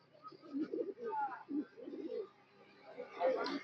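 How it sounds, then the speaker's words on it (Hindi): Pigeons, a cock and a hen in an outdoor street setting, give soft, repeated throaty coos in short bursts, close by but quiet. "बहुत खूबसूरत से कबूतर और कबूतरी हैं।"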